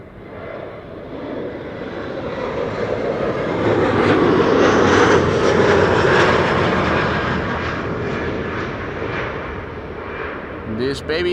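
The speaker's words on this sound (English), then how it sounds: "This baby is going to land on the runway we are standing next to in a few minutes" Passenger airplane approaching to land at Amsterdam Schiphol Airport on a sunny day, heard from beside the runway: a broad jet engine roar swells as it nears, peaks loudly mid-clip, then slowly fades.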